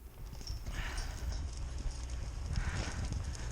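Colts moving around a round pen, with steady clip-clop of hooves on soft ground and a horse's snort or breathy sounds, close and continuous.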